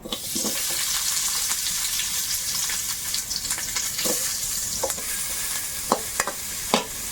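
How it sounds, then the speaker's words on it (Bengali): Onions frying in a little oil in a karahi-style wok, a steady bright sizzle running throughout with intermittent scraping stir strokes and small clinks, close and fairly loud, no talking. "এই তেলের মধ্যে প্রথমে একটু পেঁয়াজগুলো দেব"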